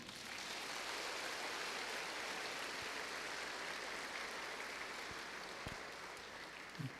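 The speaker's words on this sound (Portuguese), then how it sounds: "uma salva de palmas." Sustained applause from a church congregation at a cathedral dedication Mass honouring Saint Michael, a dense, even wash of clapping that fills the space without a break and fades slightly near the end.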